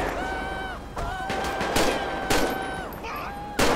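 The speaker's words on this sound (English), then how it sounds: "Oh, dispatch, shots fired." Gunshots ring out in GTA5 with an LSPDFR police patrol mod, several loud sharp cracks spaced irregularly over a siren-like wailing tone and game ambience.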